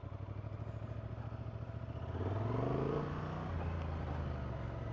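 A 2024 Honda Transalp 750 motorcycle engine hums steadily while riding, with a smooth low drone that swells louder as the bike accelerates midway, then settles at a steady, near cruising pitch.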